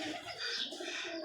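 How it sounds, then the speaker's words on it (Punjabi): A pigeon coos on a rooftop, a soft, faint call set against a steady hiss of outdoor background noise. "ਕਬੂਤਰ ਬਹਿ ਗਿਆ।"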